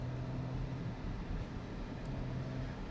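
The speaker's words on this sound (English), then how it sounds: "about to get some aircon noise now" Steady broadband whooshing of an Audi RS4 Avant's air conditioning fan blowing, constant and fairly loud with a low hum underneath, no talking.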